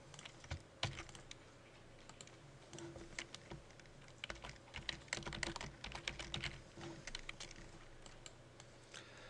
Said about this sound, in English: So I'm going to just type in image sampler.